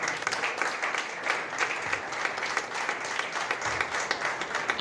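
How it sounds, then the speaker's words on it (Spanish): Congregation at a church service breaks into steady, dense applause, loud and continuous throughout with no one speaking over it. "Den un fuerte aplauso a Dios."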